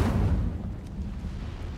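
Incendio fire spell cast in the Hogwarts Legacy video game: a loud, close whooshing burst of flame that surges at once and then fades into a rumbling, crackling tail.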